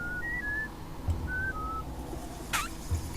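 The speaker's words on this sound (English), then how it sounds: "So when another Mudakan whistles, I just memorize down, up, down." Short, clear two-tone whistles from a Mudokon in the video game Oddworld: New 'n' Tasty, a few rising and falling notes spaced apart over a steady game ambience with a couple of soft thumps.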